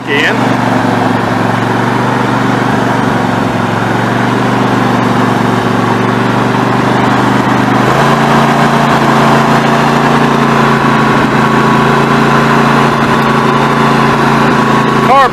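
A Snapper riding mower engine idles steadily while warming up, a loud, continuous close-range drone with a slight shift in tone midway, and the machine is eased along; someone talks over the engine.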